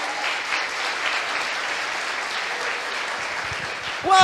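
Sustained applause from a church congregation during a service, a steady wash of clapping throughout that swells louder near the end.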